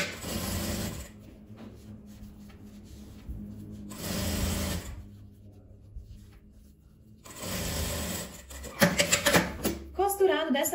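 A sewing machine stitches a seam through fabric and lining in several separate runs of steady mechanical whirring, with brief pauses between them; a voice is heard near the end.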